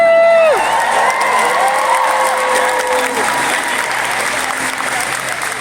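A convention cosplay contest crowd at Awesomecon 2024 bursts into loud sustained applause with cheers and whoops, a dense clapping wash that slowly tapers.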